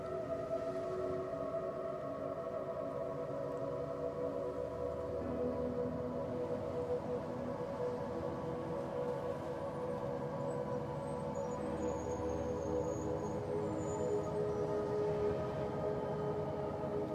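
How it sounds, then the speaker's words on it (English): Distant city sirens and horns drift through the ambience of the Rolling Line model railway game, a long wailing tone over a steady rumbling background with no talk. "Horns and sirens and all sorts."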